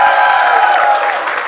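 Attendees of a Medical City Clinic launch event break into loud, sustained clapping, a thick steady patter of many hands with faint crowd murmur beneath, easing slightly at the end.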